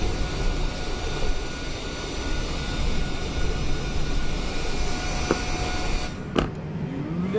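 Steady broadband roar of an airliner's jet engines heard from inside the cabin during flight, constant and loud throughout with a brief click near the end.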